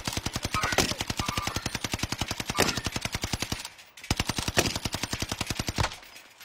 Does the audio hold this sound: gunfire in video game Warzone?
yes